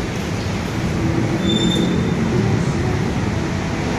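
An LRT Line 2 train passes close by near North Avenue, rumbling loudly and steadily over the rails, with faint wheel squeals above the roar and no voices.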